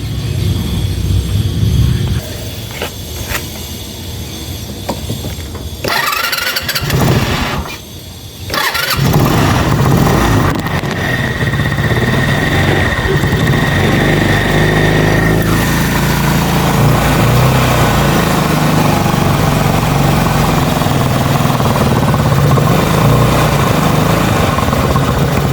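A Bajaj CT 100 motorcycle engine fitted with a swapped carburetor cranks briefly, then catches and runs loudly and steadily at idle through to the end, with a brief dip in sound just before it fires.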